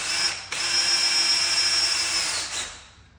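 Drill driving a REVOLOK 6600 chain binder under tension: a close, loud whine that starts abruptly, holds steady for about two seconds, then winds down and fades.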